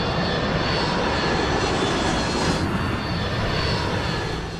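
An airplane's engine roars loud and steady as the aircraft dives steeply toward the ground, a dense continuous rush with no voices.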